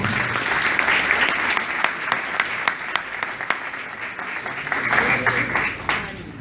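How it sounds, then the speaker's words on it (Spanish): A graduation audience at a seminary gives strong applause, a dense wash of clapping with some sharper individual claps standing out and a few voices faintly underneath. "démosle unas fuertes palmas, por favor."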